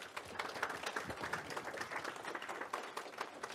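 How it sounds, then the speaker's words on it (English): Audience applause filling a university education-club meeting, a steady crowd of many hands clapping continuously for several seconds, moderately loud with no talk over it. "All right, let's clap it up for the sponsors this week."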